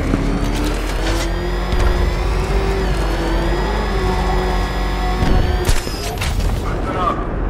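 Car engine in Batman: Arkham Knight droning steadily with rising and falling pitch, loud and close, joined by bursts of impact and gunfire-like noise near the end.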